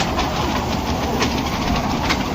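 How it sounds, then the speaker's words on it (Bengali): A dragon train amusement ride runs at a fair in Mymensingh, producing a continuous dense rumble and clatter close by. "ট্রেন যাচ্ছে, ড্রাগন ট্রেন।"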